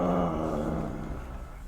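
A guard dog growls low and rumbling, close and loud at first, then trailing off and fading away.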